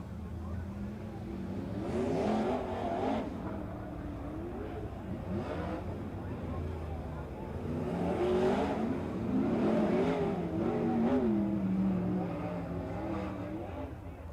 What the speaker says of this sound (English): Cars refired around the Watsonville Speedway